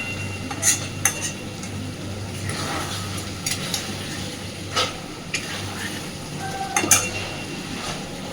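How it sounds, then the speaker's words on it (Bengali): Egg posto mixture stirred in an oiled pan, a utensil scraping and clinking against the metal in irregular strokes over a soft, steady sizzle, close and without talk. "সব কিছুকে সুন্দরভাবে মিশিয়ে দেব আর নাড়তে থাকবো ততক্ষণ যতক্ষণ না পুরোপুরি এখান থেকে তেল ছেড়ে যাচ্ছে"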